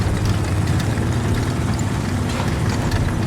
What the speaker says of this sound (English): I hear a Soviet engine.